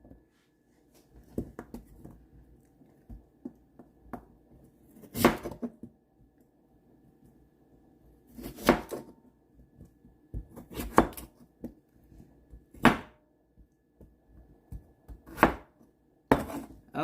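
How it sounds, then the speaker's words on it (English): A kitchen knife chops through two whole potatoes on a board for Jamaican curry chicken, a series of sharp, close knocks spaced irregularly with quiet pauses between them. "Chopping these 2 whole potatoes."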